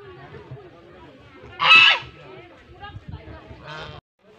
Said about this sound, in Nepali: लाग्दैछ हाँसले पनि हामीलाई स्वागत गर्दैछ जस्तो लाग्दैछ।